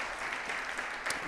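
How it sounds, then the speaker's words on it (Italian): Brief applause from an audience at a concert event, a steady, moderately quiet patter of many hands clapping, heard from some distance for about a second. "facciamo un applauso"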